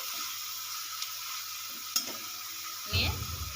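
Palak chicken with coriander leaves and salt being gently stirred in a pan, a steady high sizzle with a few light scrapes and a louder clatter near the end.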